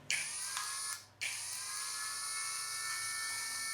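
A Lucid LX-50 Gen 3 cordless drill runs at reduced speed, giving a steady high whine that briefly dips and cuts out near the start before resuming an even hum close by.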